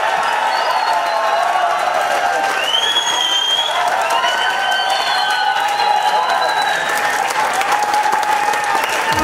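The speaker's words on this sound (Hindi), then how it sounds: "उनके लिए ताली बजाना है तो दिल से बजा लो" Sustained audience applause with cheering from a crowd at an MLM training seminar, a dense steady wash of clapping that stays loud and continuous throughout, with no voices standing out.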